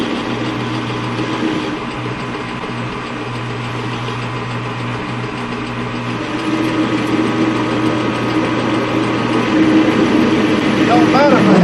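A metal lathe runs steadily, turning down a shock absorber part to a smaller diameter, with a continuous machine drone and motor hum that builds slightly louder toward the end.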